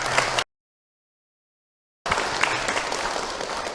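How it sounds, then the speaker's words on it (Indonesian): Audience applause at an Islamic religious lecture, a dense crackle of many hands that cuts out for over a second before resuming at a steady, moderate level. "Lagi tepuk tangan buat Pak Zainuddin ya"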